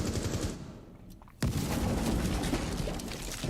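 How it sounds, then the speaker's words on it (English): Explosions and rapid gunfire fill a Rainbow Six Siege esports match, with dense, loud bursts, a brief lull and then a sudden heavy blast followed by sustained rumbling fire. "Explosions galore"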